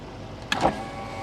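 A Daihatsu Atrai 7's power window motor whirs briefly, a short mechanical buzz lasting under a second against quiet cabin background.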